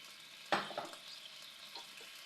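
Chicken in a sweet-sour plum sauce with a little chili is stirred in a pan, one sharp scrape of the utensil followed by soft stirring over a faint, low bubbling sizzle.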